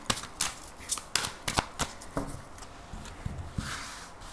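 Tarot cards shuffled by hand before a reading, a run of crisp riffling snaps and soft slaps in an irregular rhythm, close up, with no talking.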